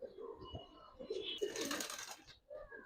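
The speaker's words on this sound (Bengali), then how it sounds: "হ্যাঁ এটা নর কবুতর ভাই, চুরি মোজা হলো একটা নর কবুতর" A male Rajshahi Giribaz pigeon coos softly in low repeated calls close by, mixed with a brief burst of wing flapping or rustle, while someone talks quietly over it.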